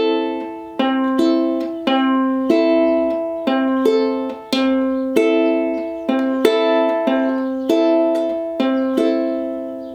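Syncopated ukulele strumming with the thumb going down and the index and middle fingers coming up, repeating one chord in a steady bouncing rhythm, close and clear with no talking.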